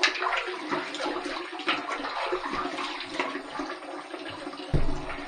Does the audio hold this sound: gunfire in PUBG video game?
no